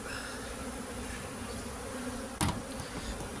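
Honeybees buzz faintly inside a hive super of an Apidea mating nucleus, a low steady drone with one brief sharp knock partway through and no talking.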